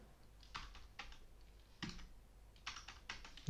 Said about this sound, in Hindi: चले मैं मैनुअल टाइप कर लेता हूँ